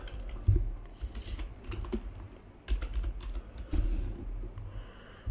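Keyboard typing up close while a variable gets named in Unreal Engine 5, with quick bursts of key presses separated by short pauses and no talking.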